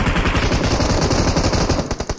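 Rapid automatic gunfire in the mobile battle-royale game PUBG Mobile, a loud, dense, continuous stream of shots, close and unbroken, that breaks into a few separate bursts near the end.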